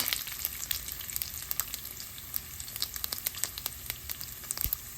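Mustard, fennel and fenugreek seeds tempering in hot oil for a pumpkin and lentil curry, a continuous bright sizzle dotted with sharp crackles and pops as the seeds spit, close and alone.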